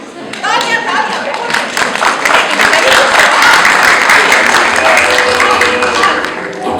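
An audience at a quiz show bursts into sustained applause, many hands clapping loudly and evenly for several seconds, with voices mixed in beneath it.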